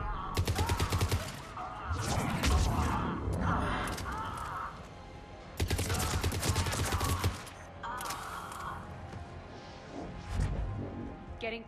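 Repeated bursts of heavy cannon fire boom in rapid volleys, loud and close, with short pauses between salvos and some voice sounds mixed in, in the video game Mass Effect 3.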